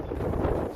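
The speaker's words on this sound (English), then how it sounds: "As you can hear, it's a bit windy down this way." Wind buffets a microphone outdoors near Dover, a low, continuous rumbling roar that stays close and steady with no other distinct sounds.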